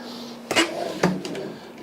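A kitchen drawer in a 2013 Thor Hurricane 29 X Class A motorhome slides and bumps shut, giving two short wooden knocks close by over a quiet room.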